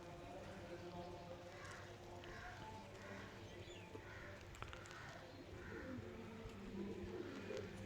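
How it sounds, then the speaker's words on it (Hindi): Pigeons in flight outdoors on a windy day, with faint coos and soft wing flutters carried over steady wind noise and distant background sounds. "इस तरीके से जो है ना कबूतर उड़ते हैं।"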